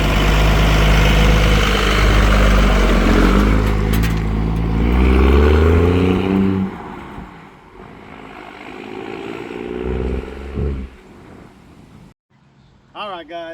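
A 1991 Cummins-powered Dodge Ram W250 truck pulls away, its loud diesel rumble fading into the distance over about seven seconds, then quiet with faint background sounds.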